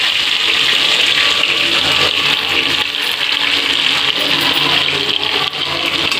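Onion pieces dropped into hot oil with cumin, hissing in a loud, steady, broadband sizzle that runs continuously throughout without any talking.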